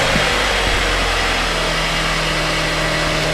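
A car engine runs at a steady idle, close and continuous, with a low rumbling hum and no talking over it.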